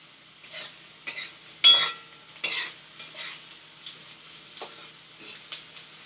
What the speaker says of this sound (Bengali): পেঁয়াজটা যতক্ষণ লাল লাল না হচ্ছে ততক্ষণ নাড়িয়ে যেতে হবে